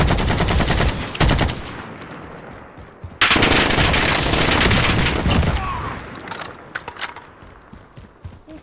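Long range SMG gunfire in Call of Duty Warzone, loud sustained rapid bursts with rattling shell and metallic clinks, broken by short pauses.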